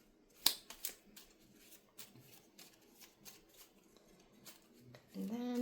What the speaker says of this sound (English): And then I have all the creator cards here. I'm just going to give them a shuffle